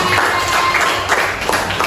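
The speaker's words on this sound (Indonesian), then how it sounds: "Kasih tepuk tangan lagi bersama" A group claps hands together in a room, the patter of many palms rising and falling in short bursts over a few seconds, with voices mixed in.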